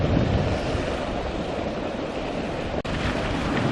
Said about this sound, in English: I'm just watching how the waves break and run along the wall as the waves come in diagonally.